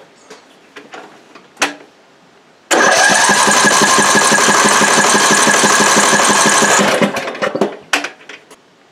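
A Briggs & Stratton 18.5 hp overhead valve engine, model 31, on a wood chipper, cranks loudly and steadily for about four seconds during a compression test, with a rapid chugging rhythm and short knocks before and after.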